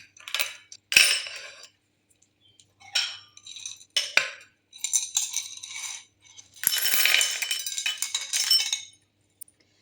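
Brass and copper coins clink and jingle as they are handled and dropped into a bowl, in several separate bursts of bright metallic chinks with short silent gaps between them and a longer rattling run near the end.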